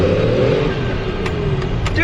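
A Cummins-powered truck with extended front shackles revving hard as its tires spin, a loud, close, sustained engine roar with rising pitch and occasional sharp ticks.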